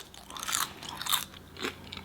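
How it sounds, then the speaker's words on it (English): Homemade potato chips crunch loudly as someone bites and chews, with three sharp crisp bursts spaced about half a second apart, close to the mouth and with no talking. "These chips, they're so crunchy, so good."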